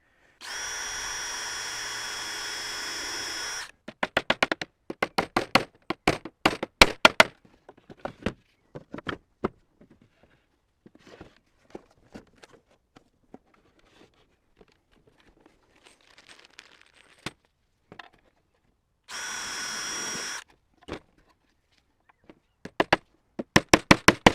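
A power drill with a 2mm bit whirs loudly into wood in two steady bursts, one long and one short, with sharp taps and handling clicks between them, while assembling a beehive.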